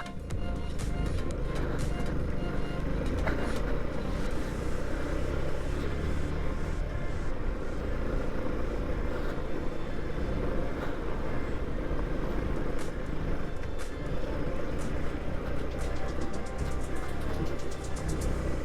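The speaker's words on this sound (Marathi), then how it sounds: "गाडी स्ट्रगल करते चढायला पण येते त्या मातीतून" A vehicle labouring up a rough, uneven dirt road on a rural route off the Mumbai–Goa highway near Mahad, its engine giving a continuous low rumble and drone with road noise, loud and unbroken throughout.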